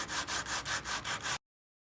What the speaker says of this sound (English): So I'm gonna put the whole sanding block over, but I'm gonna favor it towards this side.